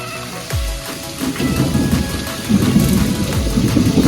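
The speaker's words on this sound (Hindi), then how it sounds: "वहां दे कड़कड़ कड़कड़ बिजली मारा थे।" Heavy monsoon rain in the month of Ashadh pours steadily, while low rumbles and cracks of thunder roll through several times, loud and close, with no voices.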